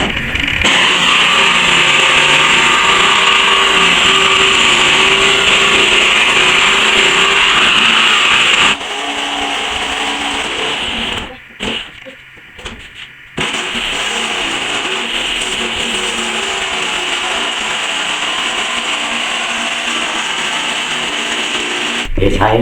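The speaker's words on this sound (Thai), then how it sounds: "ลูกหมูนะช่วยในการตัดกระเบื้องด้วยนะ" A loud, steady high-pitched whine from an angle grinder cutting roof tiles runs almost throughout, briefly cutting out and restarting.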